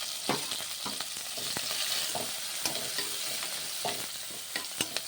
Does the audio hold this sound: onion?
yes